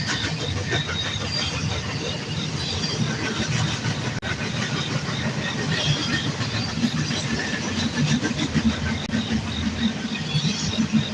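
A train rolls steadily past near a level crossing, a loud continuous rumble and clatter of rail wagons lasting throughout, close by and unbroken.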